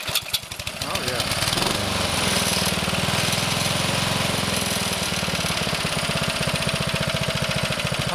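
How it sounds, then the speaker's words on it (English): Honda HR195 lawn mower engine fires up and settles into a steady, close, rhythmic chugging idle that keeps running loudly throughout. "Honda engines really run smooth."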